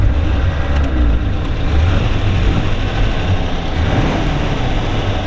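A 1935 Auburn Model 851 rumble seat convertible's engine runs loud and close with a deep, steady rumble and slight rises in revs, plus a few faint high clicks early on.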